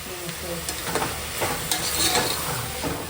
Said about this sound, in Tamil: புதினாவும் கொத்தமல்லியும் போட்டேன் வதங்கின பிறகு தான் தக்காளி போடணும்